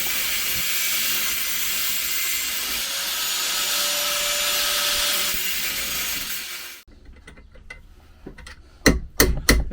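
Angle grinder working on a Honda CRF300L head bearing, a loud continuous hissing grind for several seconds that cuts off abruptly, followed by scattered clanks and knocks.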